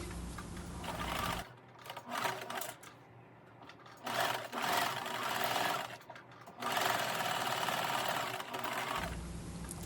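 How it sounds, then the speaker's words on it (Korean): Sewing machine stitching the shoulder seam of a dress, close and steady mechanical whirring in several bursts separated by short pauses. "먼저 어깨선을 박음질을 합니다."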